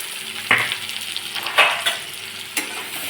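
Cluster beans tossed with turmeric, black and red chili powder in a hot pan: a few distinct spoon scrapes and clatters over a soft steady sizzle, close and alone.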